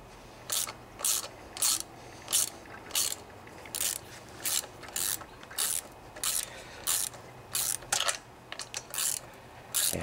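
A hand ratchet snugs down the bolts on a Briggs and Stratton OHV Intek engine during a gasket repair, clicking in about a dozen short, crisp bursts of rapid pawl clicks separated by brief pauses, close and alone.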